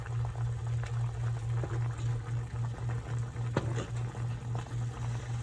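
Grits boiling in a pot on the stove make a steady, close bubbling simmer with a low continuous hum, quiet and even throughout, with no talking.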